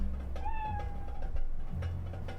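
A cat character in a game jam video game lets out a single short, rising meow as it dies, heard alone over a steady low background hum.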